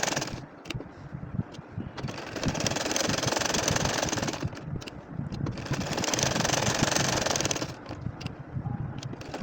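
A basic household sewing machine stitches curved lines across a nakshi kantha quilt, a continuous close mechanical whir with rapid needle thumps that pauses briefly a couple of times.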